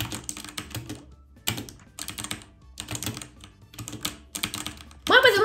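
Rapid clattering computer keyboard typing in bursts of fast keystrokes, close and crisp, with short pauses between runs and a brief louder noise at the end, while playing Block Dash.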